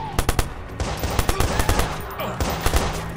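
Rapid bursts of automatic gunfire from a shooter video game, sharp repeated cracks in quick clusters, loud and close with no voices.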